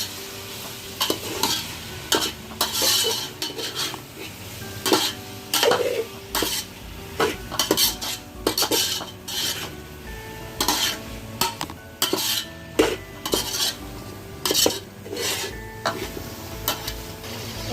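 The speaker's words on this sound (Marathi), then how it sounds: "आपण सर्व मसाल्यांमध्ये सर्व भाज्या छानपैकी मिक्स करायचे" Vegetables, including potato, are stirred into spices in a pot for vegetable biryani, with repeated scraping and clattering strokes of a spoon over a soft sizzle, in an uneven rhythm.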